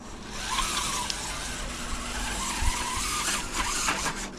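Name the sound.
RC buggy tires skidding on slippery ground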